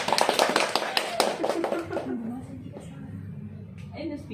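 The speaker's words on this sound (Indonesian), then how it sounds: "Oke, tepuk tangan dulu." A small counseling group claps together in a room for about two seconds, a dense burst of hand claps that then fades into quiet murmuring.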